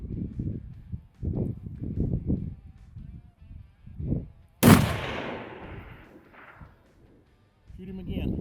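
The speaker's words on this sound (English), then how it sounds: "I think you shot to the left of him." A single sharp rifle shot cracks out across open backcountry during an aoudad ram hunt, loud and abrupt with a trailing echo, set among quiet murmured talk before and after.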